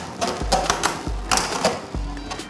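Beyblade Burst spinning tops clash inside a plastic battle stadium, producing sharp, rapid clicking and clattering impacts in quick bursts, close and fairly loud, with no talking.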